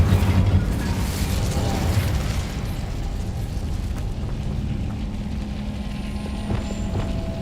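Incendio fire spell cast in the Hogwarts Legacy video game: a loud whooshing burst at the start that settles into a sustained rumbling, crackling roar with faint mechanical rattles over several seconds.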